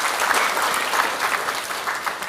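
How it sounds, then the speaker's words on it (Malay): An audience claps at an evening discussion forum, a steady, dense wash of many hands close by that carries on for the full stretch without voices. "Kita berikan tepukan kepada Dr."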